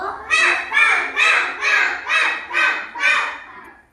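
A group of children mimics a crow, calling out seven loud, evenly spaced caws in a steady rhythm.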